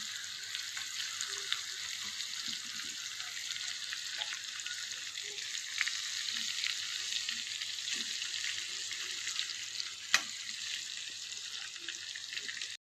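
Steady sizzling of raw-banana kofta balls frying in spice masala in a pan, with occasional soft stirring clinks and a sharp click, no voices.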